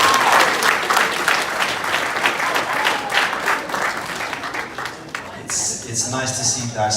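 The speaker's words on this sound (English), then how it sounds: "Another round of applause for Mchanesa," Applause from the audience at a Zimbabwe diaspora property showcase in the UK, a dense burst of clapping that fades out, followed by a host talking over the room.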